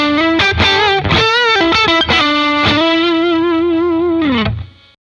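An electric guitar plays a simple lead through a praise-and-worship pedalboard with distortion and chorus, loud and sustained with bending notes and a few quick picked runs, before fading out on a held note.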